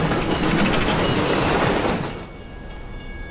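A train rolling along the rails in a railway signal-box setting, a loud steady rumble with clattering wheels for about two seconds before fading to a quieter hum as it moves off.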